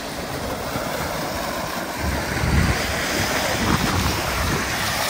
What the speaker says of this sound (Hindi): आज वेव भी काफ़ी ऊंची हो रही हैं